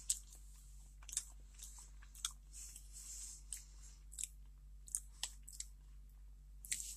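Someone chewing a soft, moist 7 Days mixed berry cake bar, close and quiet, with scattered moist clicks and squishy bites over a low steady hum.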